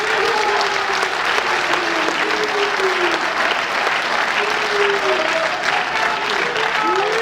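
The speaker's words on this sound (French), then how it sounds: "ils méritent un tonnerre d'applaudissements" Sustained, loud audience applause at a political party speech, thick steady clapping throughout with a voice or cheer faintly rising above it.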